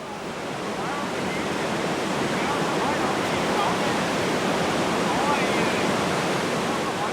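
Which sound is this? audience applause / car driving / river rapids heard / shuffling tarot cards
river rapids heard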